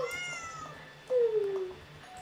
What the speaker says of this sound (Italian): Ecco un altro gatto, che carino!